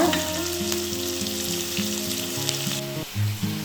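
Onion sizzles in a hot pan with a pinch of salt for a cauliflower, potato and tomato curry, a dense close frying hiss that runs steadily with brief bumps near the end.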